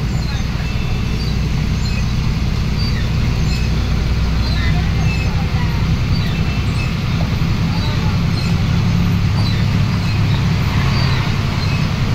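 Road traffic rolls through the Kashedi ghat in fog, a loud, continuous low rumble of engines and tyres with heavy vehicles passing nearby and no pauses.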